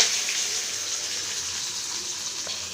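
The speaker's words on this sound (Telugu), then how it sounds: "ఆనియన్స్ ఒక రెమ్మ కరివేపాకు జీలకర్ర ఆవాలు ఎండుమిర్చి ఇంకొండి ఆయిల్ వేడవుతుంది ఆయిల్లో వేసుకుంటున్నాను" Onion, curry leaves, cumin, mustard seeds and dried red chillies hit hot oil in a pan, producing a bright, continuous hissing sizzle up close with no speech.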